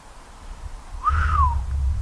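A single rising-then-falling whistle of amazement, one clear sweeping note lasting about half a second, loud and close, with a low rumble beneath it.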